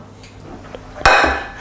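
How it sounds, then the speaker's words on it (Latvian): Peeled tomatoes are tipped into a dish while making tomato sauce, giving one sudden, close clatter against the dish that fades over a short moment after a quiet lead-in. "Gāžam iekšā traukā."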